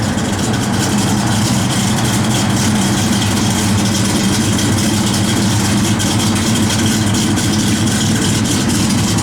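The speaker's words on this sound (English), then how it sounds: "This car just sounds nasty." A 1956 Ford Customline V8 with a 5-speed idles steadily for the whole stretch, a loud, rough, lumpy low rumble with constant mechanical clatter and no voices over it.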